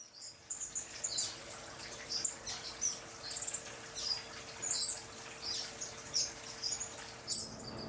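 Small waxbills chirp in an aviary, their short high tweets scattered in a steady, fairly soft rhythm over a faint hum and hiss.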